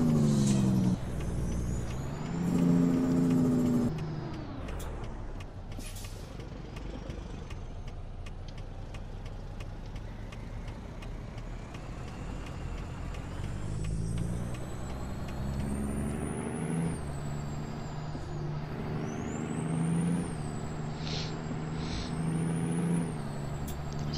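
Heavy truck engine in American Truck Simulator drones steadily throughout, with hissing air brake releases and occasional higher tonal whines rising over the rumble, moderately loud and without talk.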